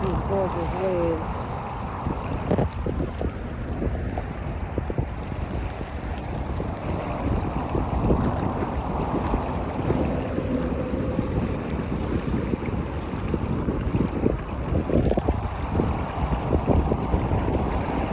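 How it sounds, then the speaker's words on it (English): Ocean waves roll and wash steadily along Malibu Beach, a continuous surf roar mixed with wind buffeting the microphone, with no talking over it. "Look at these gorgeous waves."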